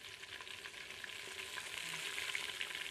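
Tomatoes and minced meat fry in a cooking vessel, giving a steady close sizzle with soft crackles and faint stirring, with no voices.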